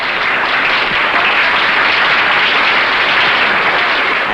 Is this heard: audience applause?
yes